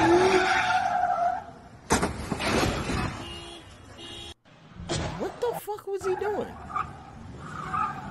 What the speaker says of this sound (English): Oh, we burning out the tires.